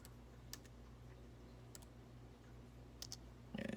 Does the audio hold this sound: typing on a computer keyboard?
yes